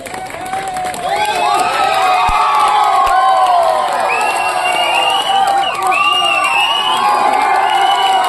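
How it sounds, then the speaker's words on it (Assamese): A crowd cheers, whoops and claps loudly and continuously at an outdoor football trophy ceremony, with shrill children's shouts rising over the roar. "ৰাইজৰ হৰ্ষোল্লাস আৰু হাত চাপৰিৰে তেখেতসকলক উৎফুল্লিত কৰিবৰ বাবে আমি অনুৰোধ জনাইছোঁ।"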